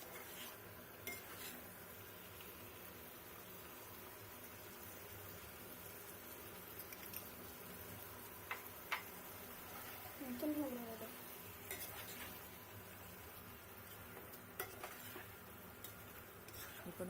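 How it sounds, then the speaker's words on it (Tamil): A spoon stirs curd into cooked vegetables for aviyal in a pot, making soft scraping and occasional light clinks. The sound is faint and intermittent over quiet kitchen background. "இப்போ நம்ம நல்லா கிளறி விட்டுட்டு இன்னும் கொஞ்சம் காய் வேகணும்"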